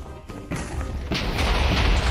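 A Minecraft explosion booms in a game, a broad rumbling blast that swells and stays loud to the end of the clip with no talk over it.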